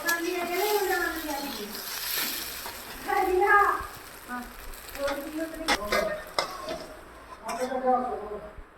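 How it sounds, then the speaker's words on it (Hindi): Potatoes stir-fry in a kadai with a gentle sizzle and occasional utensil clinks, while someone talks over most of the sound. "इस तरह करके आलू को थोड़ा भून लेंगे।"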